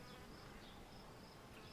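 Honey bees, mostly drones, buzz steadily and close throughout, a dense continuous drone with no pauses and no voices.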